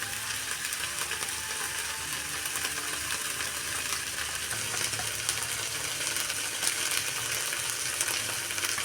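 Meat fries with spices and salt in a kadai wok while being stirred. A dense, constant sizzle holds at an even level from start to finish, with scraping stir noises mixed in and no talking.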